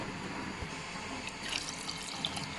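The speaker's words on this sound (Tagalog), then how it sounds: "Tubig." Water runs from a tap into a cooking pot while making fish paksiw and sinigang, a faint steady splashing stream heard on its own.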